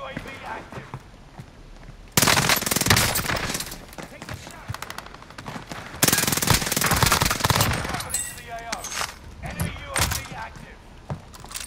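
Sustained bursts of PPSh submachine gun fire in a multiplayer video game, with dense rapid automatic volleys that kick in loudly, pause, then resume, under intermittent players' voices.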